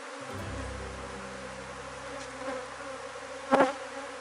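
Honeybees buzz steadily at a hive while a swarm is being split into frames with wax foundation, a close, continuous drone with low hum, and a brief louder burst of movement near the end.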